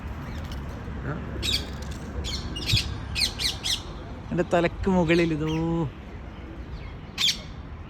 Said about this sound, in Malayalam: തത്ത, ഇതാ ഇവിടെ, ഏതാ